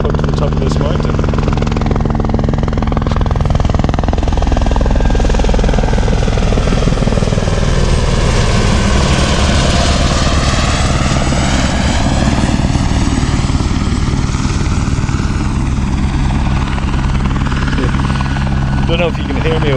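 A helicopter flies low over a mountain campsite that doubles as a heliport, its loud, steady rotor thrum and engine roar filling the air continuously and close by.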